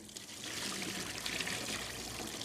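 Cooked spaghetti drained in the kitchen, a steady rushing pour of water splashing and trickling through, close and continuous for a couple of seconds with no voices.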